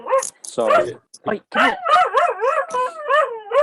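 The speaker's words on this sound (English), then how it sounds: "it's my dog" A pet dog barks, yips and whimpers close by in a room, a run of sharp bursts and drawn-out whining cries, with a person briefly speaking in between.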